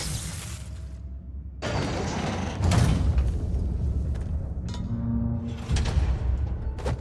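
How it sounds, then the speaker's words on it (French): A hidden door in Marvel's Spider-Man slides open with a loud, grinding mechanical rumble and heavy scraping that build and last several seconds, close and dominant, with some clattering near the end and no speech over it. "Une porte cachée."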